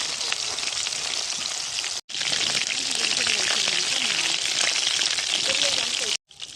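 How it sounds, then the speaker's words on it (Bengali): Pieces of chicken fry in hot oil with a dense, close sizzle that cuts out briefly twice, with a little talking at times. "দেখেন কি সুন্দর করে চিকেন ফ্রাই ভাজছি"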